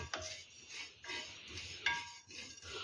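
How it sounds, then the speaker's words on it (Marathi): Cumin, fennel and coriander seeds are dry-roasted on a tava over a low flame, a spatula scraping and rubbing across the pan in soft repeated strokes, faint and close. "हा काढलेला मसाला थोडासा तव्यावर भाजून घेऊया अगदी लो फ्लेमवर आपल्याला हे सर्व जिरे आणि बडीसोप धने भाजून घ्यायचे आहे"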